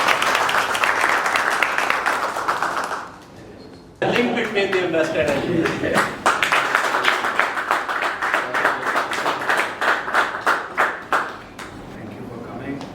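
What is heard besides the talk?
audience applause and clapping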